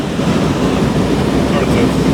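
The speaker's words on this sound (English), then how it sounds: "Wait for the wave to hit us." An ocean wave rushes in on a rainy day as a loud, continuous broadband wash of surf, roughened by wind buffeting the microphone, filling the whole brief moment without pause.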